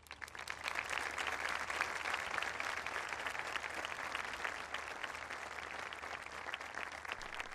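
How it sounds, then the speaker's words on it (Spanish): Steady applause from a crowd greeting the Pope at a migrant reception centre in Arguineguín, rising quickly and holding at an even, somewhat distant level. "El aplauso y el saludo del Santo Padre"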